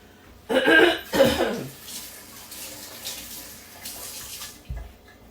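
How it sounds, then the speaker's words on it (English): Hands rinse briefly under a running kitchen tap during bread making, two short bursts of splashing water close by, then a quiet hiss of the flowing stream. "Let me rinse my hands off just a second."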